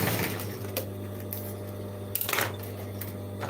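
A sewing machine runs steadily while stitching down the sides of a denim jeans bag, a constant mechanical hum with a few brief louder bursts.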